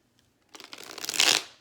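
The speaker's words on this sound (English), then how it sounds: "I'm going to go ahead and give this a shuffle." Lightseers tarot cards being shuffled by hand, a quick burst of papery riffling that builds and flutters for about a second after a short quiet start, close and fairly loud.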